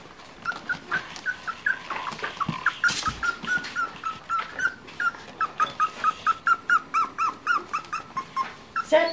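A dog whimpers and yips repeatedly outdoors at night, a rapid series of high, close, plaintive cries in a steady rhythm with a brief louder yelp partway through.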